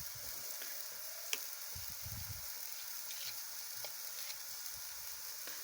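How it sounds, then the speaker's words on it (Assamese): Tomatoes frying in oil give a faint, continuous sizzle with a few light ticks scattered through it, steady and unbroken, with no talking. "অলপ টাইম ভাজি ল'ম, বিলাহী কেঁচা গোন্ধটো যোৱালৈকে"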